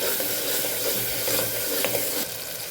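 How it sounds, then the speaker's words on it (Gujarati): Ground coriander-cumin, turmeric, hing and salt frying in hot oil in a pan: a steady close sizzle with faint stirring scrapes, continuous and fairly loud, with no talking. "સરસ મસાલાને સાતળી લેવાનો છે"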